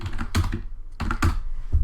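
Close typing on a computer keyboard while entering code, a few quick clusters of clicky keystrokes separated by short pauses, with no talk.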